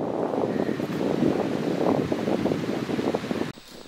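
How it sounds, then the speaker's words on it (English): Strong wind with fog on a gaining-elevation trail roars and buffets steadily in loud gusts, then cuts off abruptly near the end, leaving a quieter hush. "out of nowhere, it got insanely windy and foggy"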